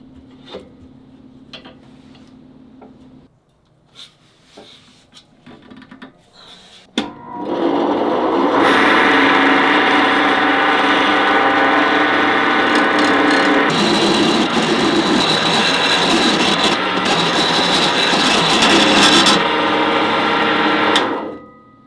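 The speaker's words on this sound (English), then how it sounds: "I'll turn this dowel into some beads on the lathe" A wood lathe turns a dowel into beads: a few quiet taps and handling knocks come first, then a loud, close, continuous whirring cut runs for about fourteen seconds before stopping.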